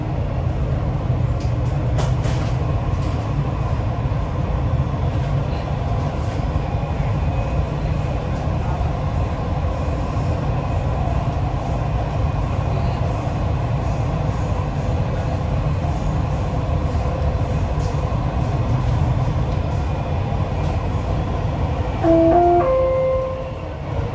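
A Dubai Metro train runs between stations, a steady loud rumble of wheels and motors inside the car that continues throughout, with a few faint tones near the end.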